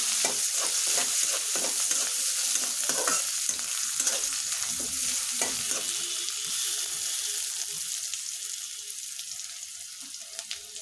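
Onions with bay leaf frying in a pan for a chicken dish, stirred steadily with a utensil, a continuous loud sizzle with repeated scraping strokes that ease slightly toward the end.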